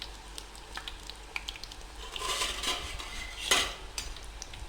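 Hot oil sizzling in a pan while preparing a Kabyle lkhechkhach dish, a steady crackling hiss with light stirring and utensil clinks, swelling to a louder burst of spitting near the end.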